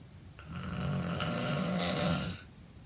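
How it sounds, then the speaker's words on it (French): A man snores once in a single long, rasping, throaty inhale that swells and fades over about two seconds, close and clear with no talk. "Chaz ronfle de son mieux."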